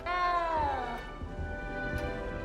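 A small cat meows once in a castle setting in the game Hogwarts Legacy, a clear, drawn-out falling cry up close, followed by a quieter background hum.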